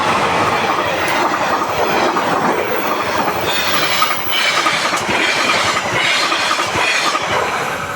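A train pulled by a locomotive rumbles past close by at a level crossing in Baron, Nganjuk, Indonesia, loud and continuous, its wheels clattering rhythmically and squealing now and then.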